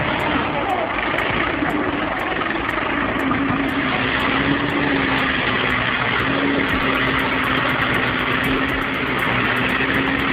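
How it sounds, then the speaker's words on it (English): An IMT 589 tractor engine runs steadily and loud throughout, a continuous droning hum with a steady low tone, no talk over it. "The IMT 589 tractor is robust and efficient for heavy-duty tasks like forestry"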